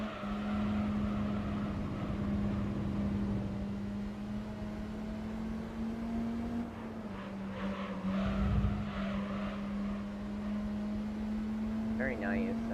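A Toyota AE86 engine in Gran Turismo 3 drones steadily at a constant pitch with a brief rev rise and tyre squeal near the end, heard at moderate level beneath intermittent talk.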